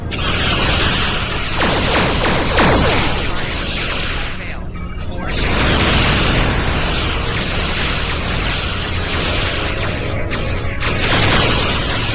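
Star Trek starship weapons firing with explosions: dense, loud roaring blasts and whooshing energy bursts that fill the stretch almost continuously, with a brief dip in the middle, alone without talk.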